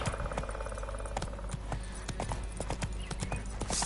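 In The Witcher 3 video game, the horse Roach gallops with rapid, steady clip-clop hoofbeats. The sound runs continuously and close over game ambience.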